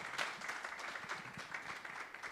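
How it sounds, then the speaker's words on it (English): Audience applause for a panel at a monthly meeting, a steady faint patter of clapping from a small crowd lasting a couple of seconds. "let's give a big round of applause for our panel"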